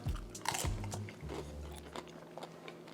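Close, crisp crunches as a tortilla chip loaded with cream cheese dip is bitten, followed by quieter chewing with small crackles.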